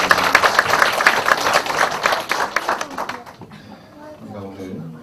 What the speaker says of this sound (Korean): 영광의 박수 한번 올리겠습니다.